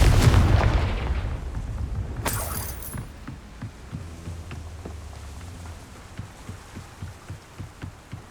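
A Confringo fire spell in Hogwarts Legacy goes off with a heavy, booming blast that rumbles and slowly decays. A bright crackle follows, then a run of soft, evenly spaced thumps.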